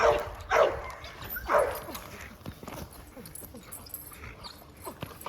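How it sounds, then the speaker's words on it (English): American Pit Bull Terriers or American Sentinels bark three times in quick succession at the start, fairly close, followed by quieter background noise. "Since the dogs were barking, I'm going to say that again."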